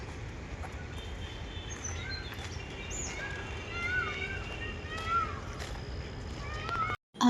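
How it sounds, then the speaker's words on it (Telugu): Birds calling in KBR Park in the early morning, said to include peacocks: several chirps and calls, near and far, over a steady outdoor hum, with a loud bump near the end. "ఆ బర్డ్ సౌండ్స్ విన్నారు కదా"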